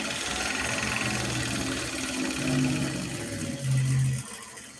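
A sewing machine runs steadily at a desk, its motor hum rising and falling, with something loose at the back of the desk, likely hanging cords, rattling along with it, close and continuous with no talking.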